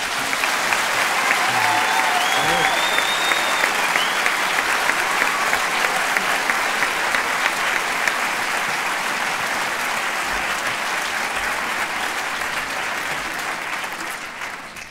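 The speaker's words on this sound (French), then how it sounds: "je vous demande d'applaudir très fort ces très jeunes musiciens" Concert audience at a school orchestra performance in a convention hall, applauding very young musicians with loud, sustained, dense clapping that holds steady before fading slightly at the end.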